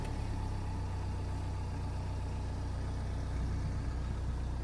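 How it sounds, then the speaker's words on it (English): A Mini Cooper D with the Chilli/Sport Pack idles in a steady, even low rumble with a constant drone that holds close and unchanged throughout. "So I'll start the car up."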